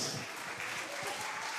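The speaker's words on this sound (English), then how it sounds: "a round of applause." An audience at a national children's reading competition final claps in a brief, soft burst of applause, heard faintly and evenly throughout.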